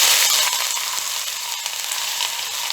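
Roughly one and a half big, finely chopped onions hit about three tablespoons of hot oil in a pan, giving a loud, steady, bright sizzle that barely lets up.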